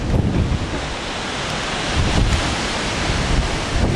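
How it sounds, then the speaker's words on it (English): Strong wind roars steadily across an outdoor microphone beside a railway line, a loud, continuous buffeting rumble with gusts that swell and fade, alone with no voices. "As the wind dies down"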